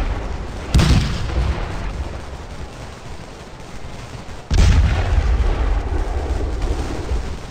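Artillery cannon fire from the Scourge of War: Gettysburg battle game, with two loud booming volleys whose rumbling roar and crackle linger for seconds between them.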